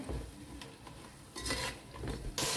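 Soft scraping and stirring of spice masala in a cooking pot for a Goan Konkani mutton dish, with gentle sizzling and a few louder scrapes of the spoon against the pot, close and fairly quiet.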